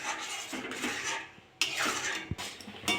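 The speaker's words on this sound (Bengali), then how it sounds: "অনবরত নাড়ব।" A spoon scrapes and clinks against a pan while tomato sauce with vinegar and sugar is stirred, in uneven strokes with brief pauses and a few sharp metallic knocks.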